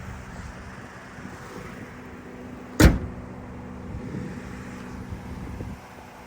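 A 2022 Mazda CX-5 engine idles steadily with a low, even hum, interrupted once by a sharp click or knock midway; no voices.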